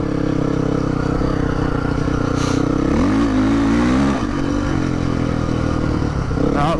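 Honda CRF dirt bike ridden on a forest track with a worn, bald rear tire, its engine droning steadily up close and then rising as the throttle is rolled on, with some rattling from the bike.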